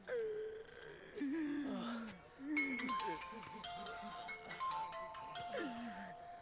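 A phone ringtone plays while a call is being placed, a melodic electronic tune of stepped tones repeating over several seconds, fairly close, with a voice making sounds over it.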